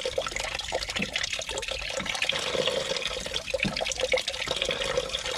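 Coolant drains from the radiator of a Holden VE Calais V8 (Pontiac G8) during a coolant flush, a steady trickling, splashing pour of liquid heard close up and continuous throughout.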